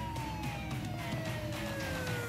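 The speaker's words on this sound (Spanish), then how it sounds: "¿Y esa sirena?" A police siren wails steadily, its pitch sliding slowly downward as if the vehicle is passing or moving away, loud and continuous with no talking over it.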